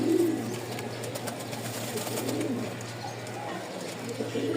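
Soft, steady cooing from a loft holding more than forty pairs of Giribaz, Lakkha and Lotan pigeons, heard over a constant low mechanical hum.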